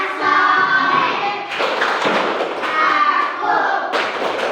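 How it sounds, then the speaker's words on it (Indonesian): Children performing the 'tepuk anak soleh' clapping chant in rhythmic bursts of group hand claps, close and loud, mixed with young voices chanting along. "mari kita melakukan tepuk anak soleh lagi agar lebih semangat"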